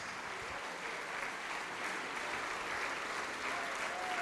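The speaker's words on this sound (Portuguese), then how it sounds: "vamos aplaudir mais" Sustained applause from a church congregation during a sermon, a steady wash of many hands clapping at once, fairly distant and even, filling the whole stretch without pause.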